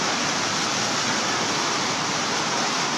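Floodwater rushes through Bonbon, Libon, Albay in the Bicol Region, a loud, steady broadband roar that fills the whole clip without letting up.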